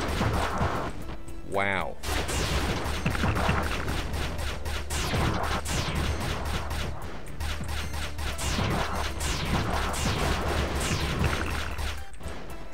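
Rapid gunfire shooting missiles out of the air in the video game Good Robot, a dense, loud stream of shots, crashes and whooshes filling the whole stretch, with a brief exclamation from a player over it.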